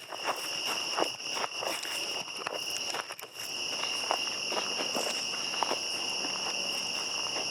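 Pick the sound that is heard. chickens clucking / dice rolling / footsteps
footsteps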